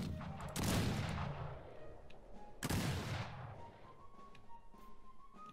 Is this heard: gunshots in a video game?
yes